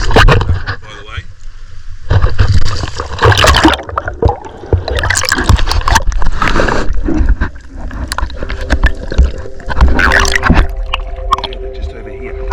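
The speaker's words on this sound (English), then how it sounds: "This is me slipping quietly into the water, by the way." A person slips into the water and splashes, with gurgling sloshes in shifting bursts, loud and close, while voices talk over it.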